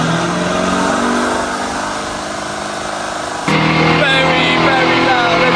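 A Lamborghini Urus with a bass tune roars steadily on a dyno, the loud, sustained engine note jumping sharply louder as revs climb partway through.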